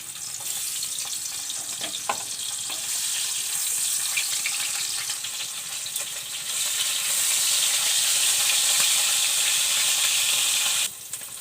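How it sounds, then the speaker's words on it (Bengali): A salted, turmeric-rubbed fish head fries in hot oil with a steady, bright sizzle that swells louder about halfway through and then cuts off sharply near the end. "তেল গরম হয়ে গেছে, মাথাটা ভেজে নেব।"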